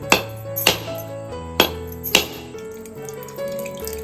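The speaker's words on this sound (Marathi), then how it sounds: "आता नारळ फोडते" Four sharp, loud cracking blows spaced irregularly as a coconut is cracked open, each ringing briefly, followed by quieter clinking and background hum.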